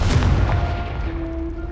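Spell effects from the game Hogwarts Legacy burst out as a loud, deep, booming blast that fades into a rumbling tail within about two seconds.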